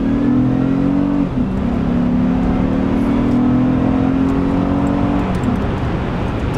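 Car with a VTEC engine accelerating hard, a loud close engine note holding a strong steady tone that climbs as it revs, with a brief dip around a gear change and another near the end.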